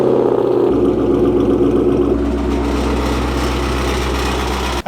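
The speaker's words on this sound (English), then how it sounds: "I'm gonna go ahead and pull the Mustang out" A Ford Mustang GT engine runs as the car is pulled out, a loud, steady low rumble with a shift in pitch partway through as it settles, close by and without speech.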